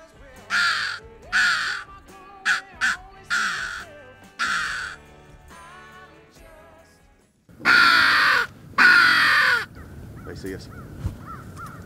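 Crows caw during an early-morning crow hunt: loud repeated caws in short bursts, a pause, then two long harsh calls close by.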